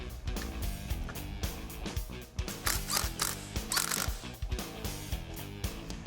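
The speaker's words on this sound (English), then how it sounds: "Then we just ran it in with our impact gun." An impact gun rattling in quick bursts as it runs a retaining nut onto the front axle of a Jeep, close and mechanical, with ratcheting clatter throughout.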